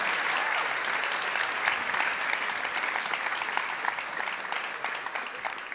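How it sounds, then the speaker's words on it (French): A large audience applauds steadily throughout at the national final of a science talk contest, dense even clapping with no pauses, fairly loud and close. "on l'applaudit encore une fois"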